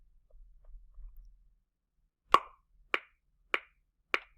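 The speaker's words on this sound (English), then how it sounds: "my metronome is going at 100 beats per minute" A metronome set to 100 beats per minute ticks four times in an even pulse, each click crisp but quiet against near silence after a faint low rumble.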